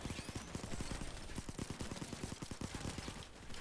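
Rapid automatic gunfire from a weapon in the heist shooter Payday 2, a steady stream of closely spaced shots for several seconds with no talk over it.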